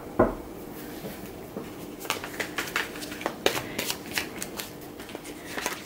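Tarot cards shuffled by hand, a soft flurry of riffling flicks and papery slaps in irregular bursts, fairly close and quiet, with no talking.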